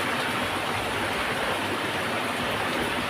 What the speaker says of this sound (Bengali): এবার একটুখানি ফুটে যাবে, ফুটে গেলে নামিয়ে নেব